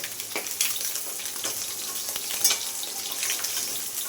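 Fried loitta fish lifted from hot oil with a steady bright sizzle and hiss throughout, close up, with faint clinks and no talking.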